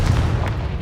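A Confringo blast spell in Hogwarts Legacy on PS5, a short booming burst of fiery explosion with a low rumbling body, loud and close, lasting under a second with no talk over it.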